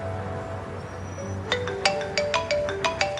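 A phone ringtone plays a repeating series of bright, evenly spaced chimes that begin partway through, sounding close and clear over a steady low background hum.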